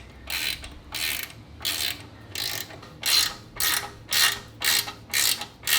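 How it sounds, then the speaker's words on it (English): An 11mm ratcheting wrench tightens a slip-on exhaust on an Indian Scout motorcycle, giving about ten short bursts of close, crisp ratchet clicking with brief pauses between strokes, and nobody speaks. "this is just an 11mm ratcheting wrench"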